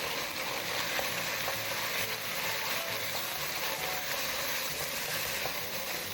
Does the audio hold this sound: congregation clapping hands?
no